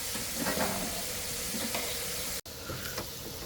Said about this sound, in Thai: เราทอดไปสักพักนะครับ